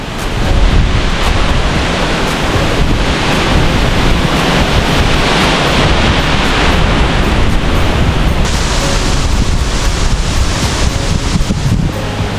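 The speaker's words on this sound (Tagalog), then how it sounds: "lakas po ng hangin" Strong typhoon wind roars loud and unbroken, a dense blustery rush that buffets the microphone throughout.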